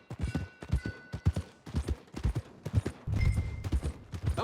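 Horse hooves clip-clop in a steady rhythm across Red Dead Redemption 2 terrain near the stables, fairly close, with a louder rumbling layer joining partway through.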